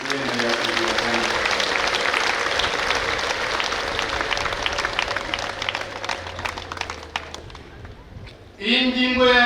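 Congregation applause at a Catholic Assumption feast-day Mass, a dense sustained clapping from a large crowd that runs steadily before tapering off, with a voice breaking in at the end.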